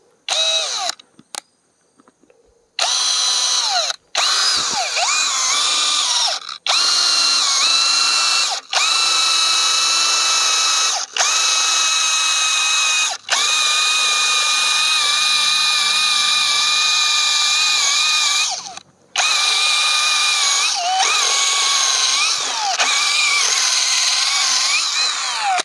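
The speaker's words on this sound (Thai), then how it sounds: "ก็จะลองใบพัดนี่ดูนะครับ ก็จะเจาะที่แกนเลยที่แข็งเลยนะครับ" An IMAX IMCD-20BL cordless drill fitted with a spade bit bores into hard wood, giving a loud, close, high whine in long bursts separated by brief pauses, with no one talking.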